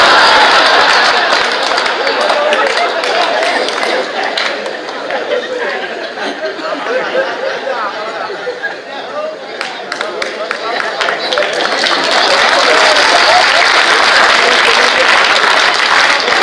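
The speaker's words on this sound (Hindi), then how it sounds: "टेम्पू और शैम्पू का बजी है ये ताली।" Sustained audience clapping at a Hindi kavi sammelan (poetry gathering), loud and continuous across the whole stretch with crowd chatter and light laughter mixed in, swelling again toward the end.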